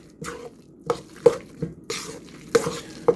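Chopped yams are stirred into butter, with a series of separate scraping and squishing strokes from a spoon in a pot, close and moderately loud, with short gaps between them.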